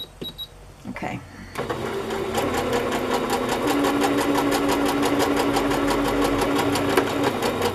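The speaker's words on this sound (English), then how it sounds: "I just ran a long basting stitch down the center" A sewing machine runs a long basting stitch down thin fabric, a steady rapid mechanical clatter that starts after a second of quieter handling noise and continues loud and close without a break.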